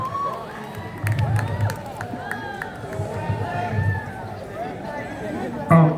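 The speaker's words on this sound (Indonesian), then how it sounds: "Beri tepuk tangan yang meriah." A school audience at a literacy event cheering and applauding for a solo vocal performance, a steady crowd roar of shouts and excited children's voices, with a sharper burst near the end.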